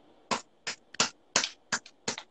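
Hands clapping, about eight sharp, close claps in an uneven rhythm, some doubled in quick pairs, with near silence between them.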